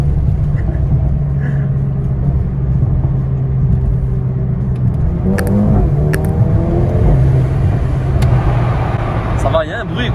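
A Mercedes-AMG A35 engine rumbles and revs close by in a steady low drone with a few sharper bursts toward the end, while people talk over it.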